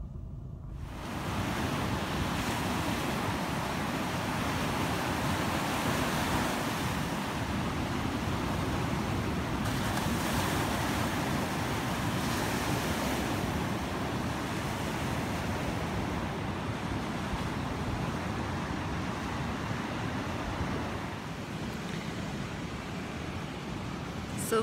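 Ocean surf rolls in steadily at Polihale Beach on Kauai, a continuous broad wash of waves mixed with wind buffeting the microphone, with no distinct breaks between swells.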